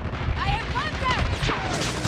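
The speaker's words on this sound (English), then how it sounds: "Sentry gun has been destroyed." Gunfire in the mobile shooter Call of Duty Mobile, shooting down an enemy sentry gun: a steady, dense wash of shots and impacts with sharp, whistling streaks running through it, held at an even loudness for about two seconds.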